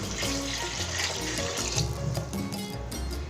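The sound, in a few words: pouring water into the pot for mushroom pulao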